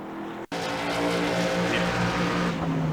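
A race car in the iRacing sim at Martinsville Speedway loses grip under braking on corner entry. The engine note cuts out briefly, then a loud sustained engine roar with tire scrub carries on, close and continuous.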